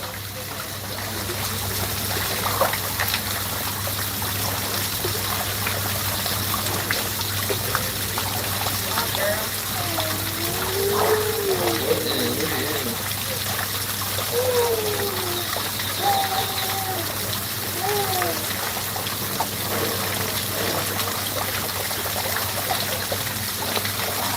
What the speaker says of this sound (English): I like to keep that waterfall in the back